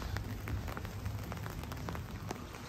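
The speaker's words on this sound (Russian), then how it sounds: "Дождь идет и не перестает" Steady rain pattering on street pavement in Zürich, Switzerland, with dense drops and occasional louder splashes, continuous and close.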